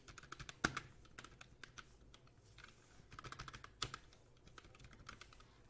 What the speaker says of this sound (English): so let me type hello world